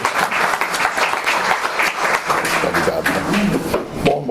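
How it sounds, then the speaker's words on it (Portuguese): Audience applause for a speaker handed the microphone at a festival gathering in Macau, with many hands clapping in a brisk, even rhythm that tapers off near the end. "Uma salva de palmas também para ele."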